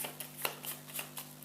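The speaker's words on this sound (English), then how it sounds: "shuffle them together with the special research cards" Research cards from the Dawn of the Zeds 3rd Edition board game are shuffled together, a soft papery riffle of several quick flicks, close and fairly quiet, with no voice.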